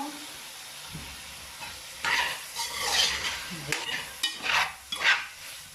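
Chicken sizzling in olive oil in a pan, cooked with shrimp and vegetables: a soft hiss that swells into louder crackling bursts, with utensil scrapes and clinks as the pieces are stirred.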